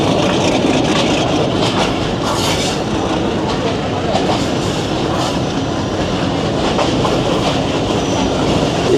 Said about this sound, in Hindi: नौ बजकर 50 मिनट पर अप्रोच बना रही है ट्रेन हमारी हरिपुर स्टेशन